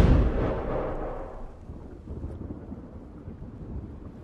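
Firing-squad gunfire in the video game Tales from the Borderlands: an opening booming burst that rolls away into a low rumbling tail, with no talk.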